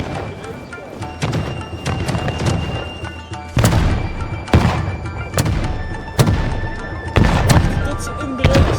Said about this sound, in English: As muskets crack and cannons roar, the field is set